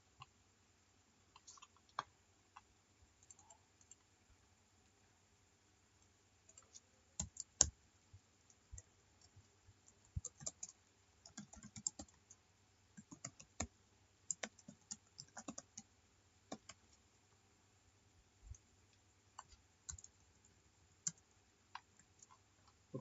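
Quiet, close computer input clicks and taps come in scattered bursts with short gaps, crisp little ticks against near silence.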